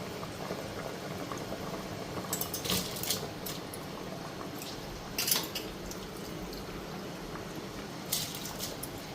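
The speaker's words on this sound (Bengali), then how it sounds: "এখন চালটা দিয়া দিই, ডালটা ফুটতে গেছে গে" Dal (lentils) boiling in a pot on a home stove, a steady close bubbling with occasional louder pops and splutters, no talk over it.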